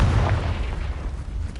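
A Confringo explosion spell goes off in Hogwarts Legacy, a single deep, booming blast that rolls off over a second and a half with no one speaking.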